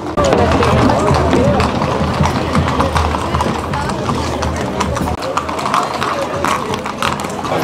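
Many horses' hooves clip-clop on the ground during a traditional cavalcade in Arandas, Jalisco, a dense, loud, continuous clatter close around the listener, mixed with crowd babble and someone speaking throughout.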